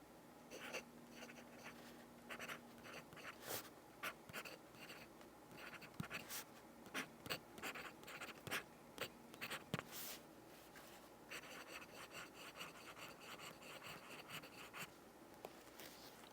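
A titanium fountain pen nib scratches across paper in quick, uneven strokes, close and faint, with a dry, pencil-like scraping texture and short pauses between bursts.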